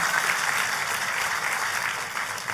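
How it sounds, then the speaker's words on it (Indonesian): A church congregation applauds enthusiastically during a sermon, a dense, continuous wash of clapping that holds loud and steady before easing slightly toward the end. "tepuk tangannya boleh yang paling meriah"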